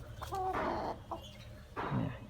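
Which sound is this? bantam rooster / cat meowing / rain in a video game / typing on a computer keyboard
bantam rooster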